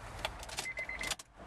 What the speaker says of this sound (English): One key, central locking, in we go.